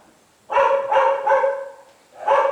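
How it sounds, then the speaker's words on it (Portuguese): A dog barks close by in a short series of bright, sharp yaps, then pauses briefly before barking again. "Toda vez que eu começo, os cachorros começam a latir."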